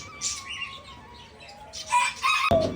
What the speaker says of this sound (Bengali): এইখানে আপনারা দেখতে পাচ্ছেন আমার ব্রাহ্মা গাছের 2টা মুরগি